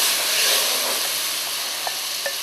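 Vacoa added to spices already browning in a hot pan, a loud, dense, continuous sizzle and hiss of frying with faint stirring ticks, close and without talk.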